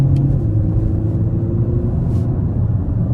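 An automatic car, driven with hand controls, hums and rumbles steadily from inside the cabin while accelerating, a low droning note that holds without sharp revving peaks.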